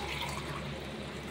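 Water is poured into a cooking pot for mushroom biryani, a steady close rush of liquid that runs unbroken at an even level.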